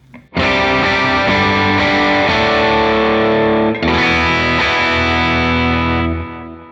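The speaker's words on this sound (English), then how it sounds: "This is what that sounds like with this C30 12AX7 channel 1 amp block" Electric guitar through a C30 12AX7 channel 1 amp block into a greenback cab, miked with a 67 condenser, rings out as two loud, distorted sustained chords, the second struck partway through and fading at the end.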